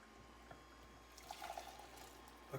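Starchy pasta cooking water poured into a cup in a home kitchen, a faint, soft trickle and splash that grows briefly before tapering off.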